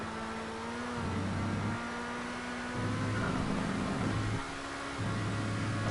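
A racing car engine in a Trackmania-style stunt racing video game hums and whines, its pitch stepping up and down in several distinct shifts as it revs and eases off, fairly close and steady, with no talking.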